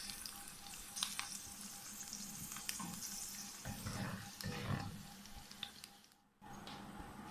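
Chicken pieces frying in hot oil for chicken jalfrezi, a steady close sizzle with occasional stirring clatter and a brief dip near the end, no voices.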